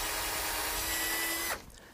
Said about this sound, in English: if you can't get the bleeding to stop, the drill helps there